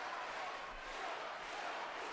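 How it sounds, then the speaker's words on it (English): A crowd at the 2019 Sabre World Championships men's fencing final in Budapest cheers and chants for Szatmári, a sustained distant roar of many voices with no single sharp peaks. "The crowd really trying to lift Szatmári here"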